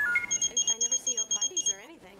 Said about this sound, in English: So it's just beeping.